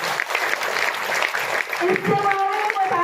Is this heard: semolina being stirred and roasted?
no